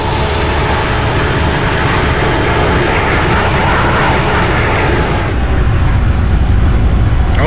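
Boeing 757-300 flyby in the X-Plane 12 flight simulator, a loud continuous jet engine roar with broad rumbling noise that holds steady, then swells slightly near the end.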